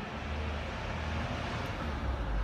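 Steady low rumble of road traffic with passing cars behind a garden setting in the UK, continuous and moderately loud with no talking over it.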